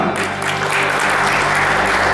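Warm applause from a crowd, steady and dense throughout, with no talking over it.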